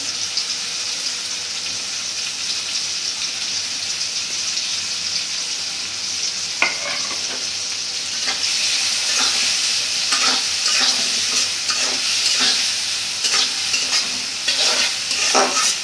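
Onions and chopped green chilli fry in the oil left from frying fish, giving a steady loud sizzle with repeated scraping stirs that grow busier midway.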